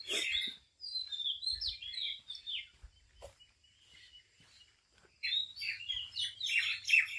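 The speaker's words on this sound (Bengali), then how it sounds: "পাখিগুলোর আওয়াজ Q Q Q Q Q Q করে ডাকে।" Birds chirp outdoors in a cool, pleasant setting near the Tetulia Dak Bungalow on the Bangladesh–India border, bright rapid tweets in two bursts separated by a quieter gap, fairly close and clear with no talking.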